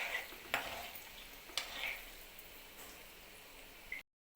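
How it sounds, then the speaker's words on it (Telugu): Chana dal and dried red chilies frying gently on a low flame, a soft quiet sizzle broken by a few stirring clicks, with no talking. "ఇవన్నీ లో ఫ్లేమ్లో పెట్టుకుని వేయించుకోవాలి"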